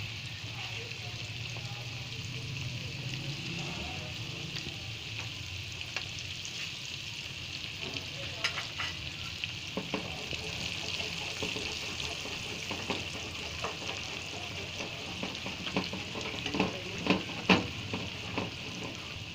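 KFC-style chicken pieces fry in hot oil over a medium flame, giving a steady bubbling sizzle throughout with occasional crackles and stirring clicks; a voice speaks over it at times.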